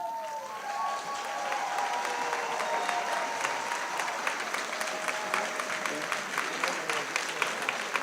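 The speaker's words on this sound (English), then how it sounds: "They clap too much." An audience claps steadily at a school board of education meeting, dense sustained applause with a few louder hands near the end, and a voice speaking faintly over the start.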